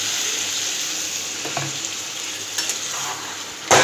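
Capsicum pieces and spices sizzle steadily in a hot pan for several seconds, with a few soft scraping stirs, then a louder clatter near the end.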